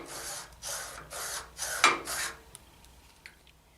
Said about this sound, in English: Place it against the flat edge of the blade and make our passes.